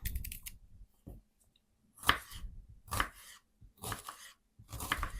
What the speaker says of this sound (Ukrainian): Цибулю у звичайний спосіб. Нарізаємо.